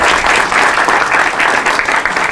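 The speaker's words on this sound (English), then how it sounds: "Let's give them a big warm round of applause." Dense, steady applause from an audience at a Hispanic Leadership Summit entrepreneurship session in Dallas, greeting three entrepreneurs; loud, continuous clapping throughout with no pauses.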